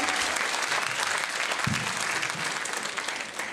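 Audience applause for a performer at a live music performance, a steady broadband wash of many hands clapping that holds at an even level throughout, close and full, with no talking over it.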